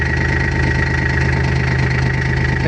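A Belarus MTZ 320 tractor's diesel engine idles steadily and loudly up close, with a rhythmic low chugging knock that never changes pace.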